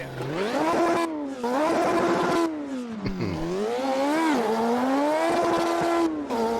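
Classic Formula 1 race car engine in the Automobilista 2 sim, a loud high-revving screaming drone that climbs and drops through repeated gear changes and throttle lifts, close and continuous with no talking.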